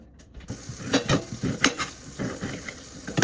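Onions and spices fry in a pan for paksiw, with a soft sizzle under irregular scraping and clinking as the mixture is stirred close by.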